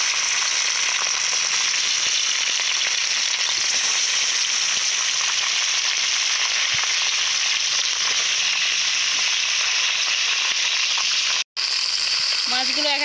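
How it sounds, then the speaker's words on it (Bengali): Bata fish frying in hot oil, a loud dense continuous sizzle heard close up, with a brief break near the end. "বাটা মাছগুলো ভালো করে ভেজে নেব।"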